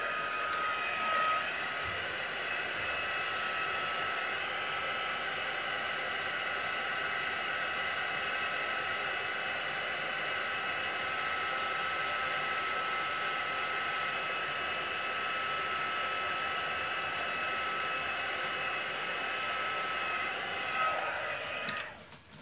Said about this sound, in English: So you want to take your heat tool